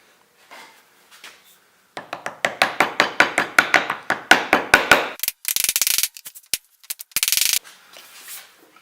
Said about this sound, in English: come back with a chisel to go all the way to the line I had established